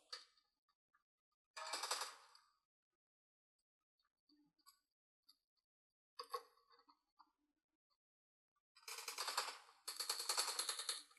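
Gunfire from a mobile shooter game played on a Samsung Galaxy S24 with Exynos 2400, heard as rapid automatic bursts with short isolated shots between them, fairly quiet and with no talk.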